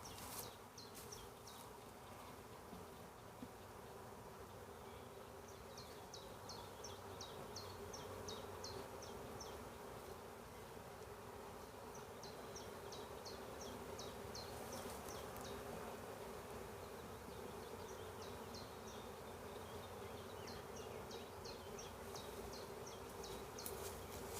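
A swarm colony of honey bees hums steadily on a hive frame while it is moved into a full-size hive, with a dense, even drone throughout and faint higher buzzes passing close by.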